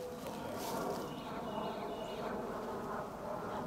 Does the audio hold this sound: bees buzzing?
yes